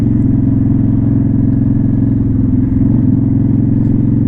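Steady, loud motorcycle engine rumble while cruising around town near the Sturgis Motorcycle Rally, a constant low throb heard up close with no talking.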